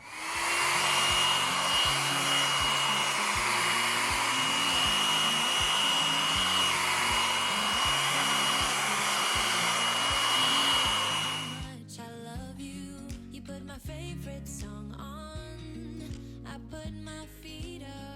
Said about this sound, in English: I do use my little mini hair dryer to help the process out